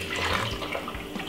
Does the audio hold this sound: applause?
no